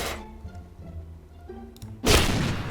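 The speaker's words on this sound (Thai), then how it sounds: "ระเบิดโคตรเยอะนะครับ" A sudden loud video game explosion erupts near the end, following quieter rumbling gameplay background sounds and low thuds.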